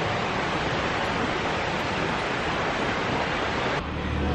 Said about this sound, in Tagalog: Naririnig mo yung tunog ng tubig.